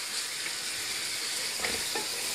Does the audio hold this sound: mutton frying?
yes